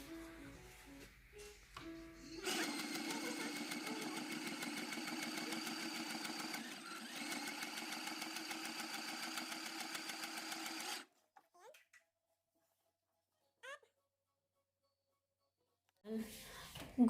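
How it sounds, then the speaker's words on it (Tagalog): A pedal-operated mini sewing machine stitches a sample face mask, a steady rapid whirring rattle for several seconds, then stops, followed by quiet handling clicks and soft talk. "Automatic na yan, aandar na yung machine."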